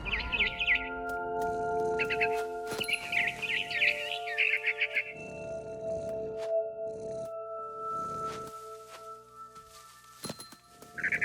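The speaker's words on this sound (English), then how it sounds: "I heard chirping outside my window. It was a barn swallow going back to her nest." A barn swallow chirps near its nest in the video game What Remains of Edith Finch, with quick bright bursts of twittering through the first half, set over sustained musical tones that carry on alone afterward.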